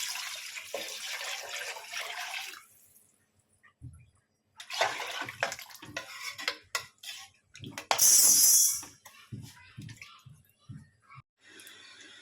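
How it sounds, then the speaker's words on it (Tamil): Water is poured into a pressure cooker for rice in short splashy bursts between quiet gaps, with one louder, brighter pour near the end. "6 டம்ளர் தண்ணி ஊற்றிக்கிறேன்."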